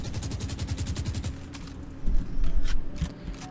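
Rapid rifle spray in Valorant, a fast string of closely spaced shots for about a second and a half, then a few scattered impacts and heavier booms close by, with no talk.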